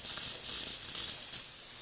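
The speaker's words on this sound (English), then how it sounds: "And we're going to get pretty good steam" Steam wand of a freshly serviced Lelit Victoria single-boiler espresso machine hissing continuously and strongly, a steady close airy rush with no speech.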